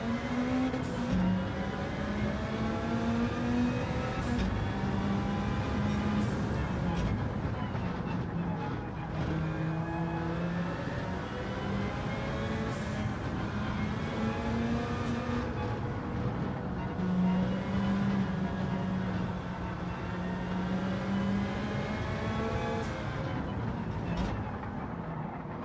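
Turbocharged race car engine in Gran Turismo 7 running at 2.5 bar of boost, a loud sustained engine whine rising and falling through repeated gear changes, with a voice talking at times underneath.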